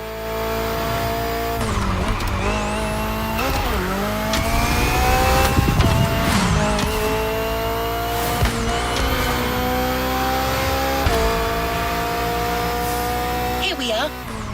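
A BMW Z car's engine in The Crew Motorfest video game revs up and down through repeated rising and falling sweeps, with tire squeals and skids between them, loud and close, while a voice talks over the driving.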